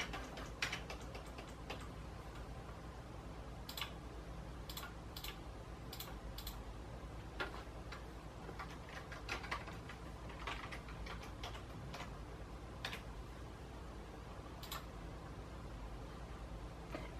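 Keys are tapped on a computer keyboard one at a time, faint scattered clicks spread over a quiet background as zeros are entered into a form.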